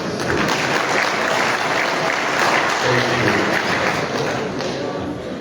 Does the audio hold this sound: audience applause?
yes